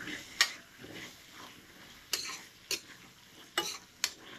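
Eggplant stir fry with sambal chili garlic being stirred in a pan, soft scraping and faint sizzle with a few sharp utensil clicks against the pan, fairly quiet and close.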